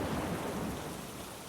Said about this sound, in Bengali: আজ সকাল থেকেই ঝমঝমিয়ে বৃষ্টি, মাঝে মাঝে বিদ্যুতের ঝলকানি আর বজ্রপাত।